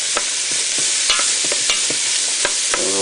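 Onions and mushrooms fry in a pan as the base for ratatouille, giving a steady, loud sizzle with a few scraping stirs throughout and no voices.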